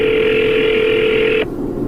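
A steady telephone tone sounds continuously and fairly loud for over a second before cutting off abruptly, as on a phone line during a call to a school bus driver.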